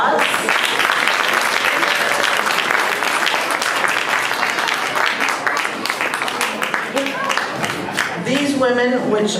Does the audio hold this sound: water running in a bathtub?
no